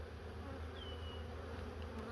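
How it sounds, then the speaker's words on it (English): Honey bees from a full nuc box buzz steadily in a continuous, dense hum, fairly quiet and close, with no voices. "Look at all those bees."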